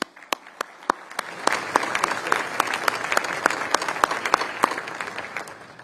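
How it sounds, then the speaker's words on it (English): A final round of applause for honored community leaders at a Patriot Day remembrance breakfast: a few sharp individual claps at first, swelling into sustained, moderately loud clapping from a sizable audience. "please join me in one final round of applause as we recognize each of these outstanding Central Florida leaders"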